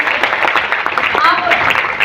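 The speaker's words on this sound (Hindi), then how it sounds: "एक बार जोरदार तालियां।" Loud, close crowd applause at a Smart Value business gathering in Orai, Jalaun: a dense wash of clapping through the whole short stretch, with a voice calling out over it.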